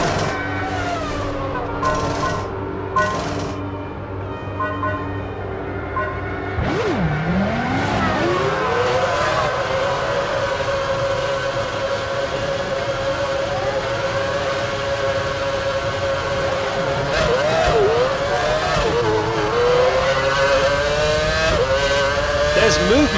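Formula One race car engines roar in the PS3 game Formula One Championship Edition at Silverstone as a car exits the pit lane, a loud, continuous whining drone that sweeps up and down in pitch through shifts and revving.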